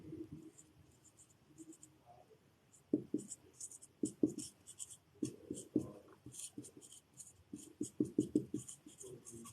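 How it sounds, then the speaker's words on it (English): Marker writing on a board during a math class, bursts of quick squeaky scratching strokes with short pauses between them, close and fairly clear, with no talking. "I'm just going to write it over here for you guys."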